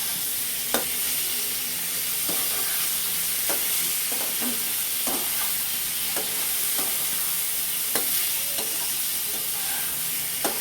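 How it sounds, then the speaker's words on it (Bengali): Nigella seeds frying in hot oil while being stirred, giving a steady close sizzle broken by intermittent scraping knocks of the spoon, with no voices. "ভাজা হলেই তেলে পড়েছে, তেলে দিয়ে ভাজা ভাজা হচ্ছে"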